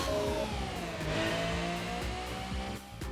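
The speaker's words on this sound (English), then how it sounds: "The 3-cylinder engine is roaring even from the very beginning." A 1991 Honda Beat's three-cylinder engine roars loudly and steadily in Gran Turismo 4, with rising and falling engine pitch through gear changes and no voices.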